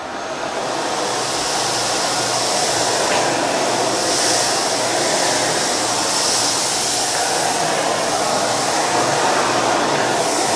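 Miele Boost CX1 Parquet vacuum cleaner running at its maximum suction setting, a loud steady whooshing motor roar that holds constant throughout, with no talking.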